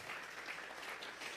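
A church congregation applauds, offering a sustained round of clapping from many hands that sounds somewhat distant and fills the whole moment evenly.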